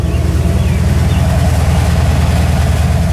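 Engine idling on a Holley carburetor after a jet change, in a Ford fitted with GM TBI parts, a loud, steady low throb with an even pulsing rhythm, close by and without talk.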